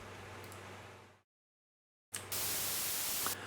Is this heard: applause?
no